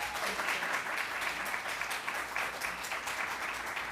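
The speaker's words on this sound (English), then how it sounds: "One more time, a round of applause for this panel." A live audience applauds a youth mental health panel with dense, even clapping that fills the whole short stretch at a moderate distance.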